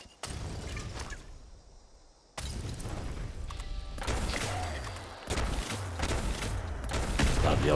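Rapid bursts of player gunfire in Fallout 76 ring out loud and continuous, with sustained volleys and sharp impacts layered over game ambience, no voices.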